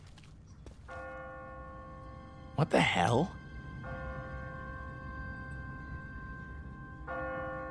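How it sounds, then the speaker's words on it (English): Church bell in The Walking Dead video game tolling steadily in the distance, a sustained ringing tone repeating through the scene, with a brief exclamation from a man partway through. "What kind of church bell goes off at 20 past the hour?"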